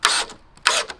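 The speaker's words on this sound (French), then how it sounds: "je vais pouvoir visser ça ici." A power drill driving screws into wood while building a firewood shelter, two short close bursts of whirring with a pause between them.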